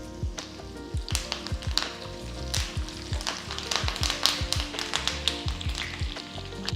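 Curry leaves sizzle in hot ghee with fried cashews, a steady close crackle broken by sharp spoon taps and stirring clinks against the pan in an uneven rhythm.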